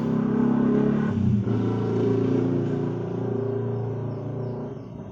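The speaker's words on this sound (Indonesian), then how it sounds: "motor lewat" A motorcycle passes by, its steady engine drone loud and close for a few seconds, dipping briefly before settling into a gradually fading hum with no one talking over it.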